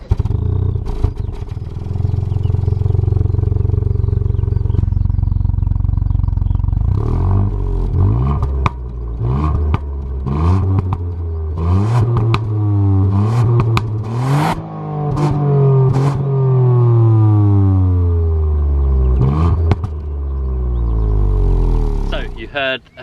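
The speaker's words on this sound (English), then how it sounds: "Heard a clip of the fruity little exhaust there." A Ford Puma ST's small three-cylinder engine revs hard through its valved exhaust in sport mode, loud and close, climbing and dropping through several gear changes with crackles between pulls.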